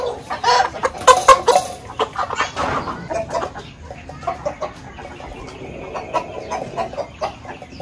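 Chickens clucking and squawking at a feeding spot, several birds close by with busy overlapping calls that are loudest early and then settle into steadier, softer clucks.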